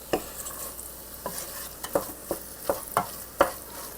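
Pumpkin pie filling being stirred and cooked down in a pan for hand pies: a series of distinct scraping stir strokes, roughly one every half second, over a low background with no talking.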